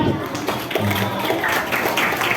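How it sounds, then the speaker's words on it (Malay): Audience of schoolchildren clapping at a school anti-bullying talk, a brief moderate burst of applause. "Okey, bagi tepukan"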